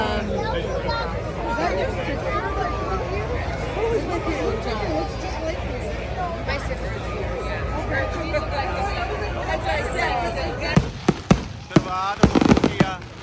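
Several sharp firecracker bangs crack out near the end, loud and close, after a stretch of crowd chatter and excited voices at an outdoor festival fair.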